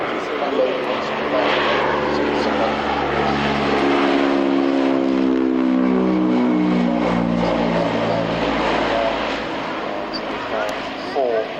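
Aeritalia G222 Italian Air Force transport at an air tattoo, loud turboprop engines with rising and falling droning tones as the aircraft passes close by, under spoken commentary.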